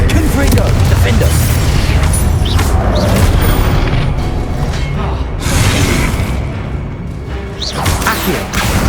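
In the Hogwarts Legacy video game, Confringo spell blasts go off as dense, loud, continuous booms and crashing whooshes, with a voice calling out over the explosions.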